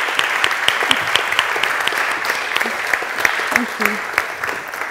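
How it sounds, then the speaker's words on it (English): Warm applause from a Cambridge Union audience welcoming a guest, a steady wash of many hands clapping at close range for several seconds, with a brief voice speaking over it near the end. "Could you please join me in wishing her a warm round of applause with a welcome?"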